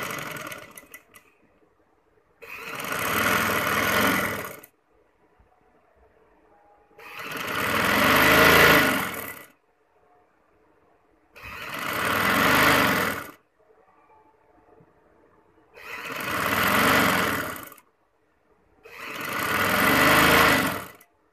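A sewing machine stitches along a fabric edge in five separate runs of about two seconds each, motor rising and falling, with quiet pauses between bursts.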